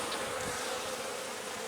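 Honeybees buzz at an open hive during an inspection on a cool day, a dense continuous hum of many insects close by, steady throughout with no voices.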